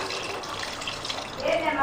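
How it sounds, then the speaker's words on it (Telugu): Water poured into a bowl of tamarind while making Andhra-style sambar, a short steady splashing stream that swells louder near the end, close by with no talk. "సో తర్వాత మనకి క్వాంటిటీకి తగ్గట్టు వాటర్ పోసుకుంటే,"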